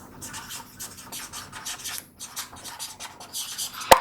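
Marker or chalk drawing on a board during a cell division lesson, producing irregular scratchy rubbing strokes in quick bursts, close and fairly loud, with a sharp tap at the end.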